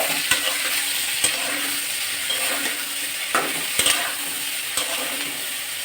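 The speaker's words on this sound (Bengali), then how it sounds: "এই যে আলু প্রায় ভাজা হয়ে গেছে" Potatoes fry and get stirred with spices in a pan, a steady sizzle broken by repeated scraping strokes and occasional utensil clacks at close range, with no speech.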